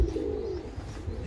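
Pigeons coo softly inside a breeding coop, a low steady murmur close by with no voices.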